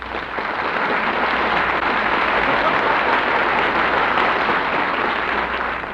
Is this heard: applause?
yes